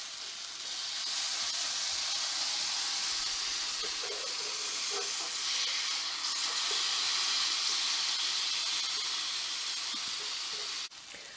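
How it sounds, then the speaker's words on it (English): A flipped turkey burger sizzling loudly in a pan, a dense, steady hiss that rises within the first second and holds evenly before cutting off abruptly near the end. "So I'm going to go ahead and flip my turkey burger."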